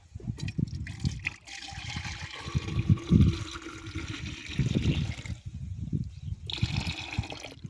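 Liquid pesticide poured and measured out in a village setting for spraying a rice paddy, a continuous splashing, trickling pour with low gurgles and a few pauses, close by.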